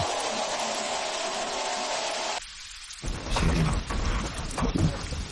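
A dense, steady hiss of rain at night fills the scene, then drops out briefly before returning heavier with low rumbling, like a downpour outdoors.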